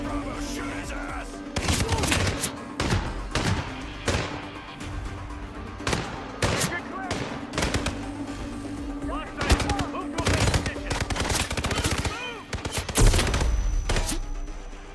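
Rapid video game gunfire, dense bursts of sharp shots and automatic fire crackling across the whole stretch, with voices talking intermittently underneath.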